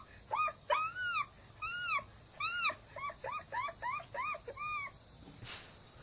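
A voice imitates a gull call with a rapid series of rising, whiny squeals in short bursts, close and fairly loud, with brief pauses between groups.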